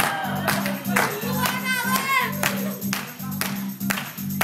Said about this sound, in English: all clap your hands